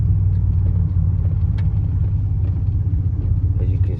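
A Ford F-150 V6 truck engine drones low and steady while driving, a mellow, quiet rumble heard from inside the cab, with a voice speaking briefly over it.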